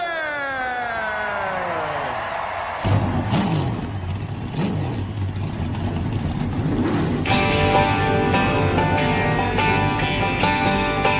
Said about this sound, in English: And now for the most famous words in motorsports.